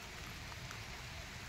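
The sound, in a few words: rain falling in a golden custard apple orchard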